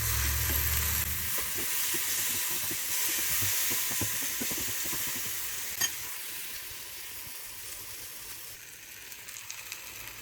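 Bananas dusted with cinnamon and sugar fry in a pan, a soft steady sizzle and hiss with faint stirring scrapes, fairly quiet and close, with no voices.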